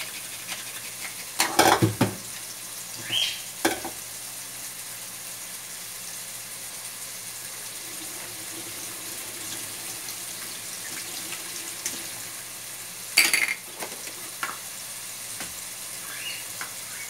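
Onion fries in a pan with a soft, continuous sizzle running throughout, broken by a few louder clatters and scraping stirs of a utensil near the start and middle.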